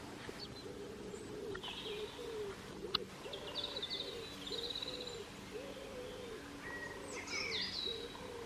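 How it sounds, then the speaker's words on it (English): Rooks caw and squawk faintly from a distance in scattered bursts outdoors, over a steady low background drone. "We've got some rooks squawking."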